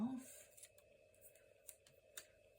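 Scissors cut a paper piece in half for a snowy Christmas window page in a journal. A few faint, separate snips sound close by in a very quiet room.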